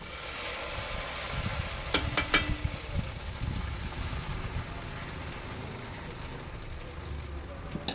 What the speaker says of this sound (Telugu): ఫస్ట్ దోశ అయితే వేస్తున్నాను, వచ్చిద్దా రాలేదని చూద్దాం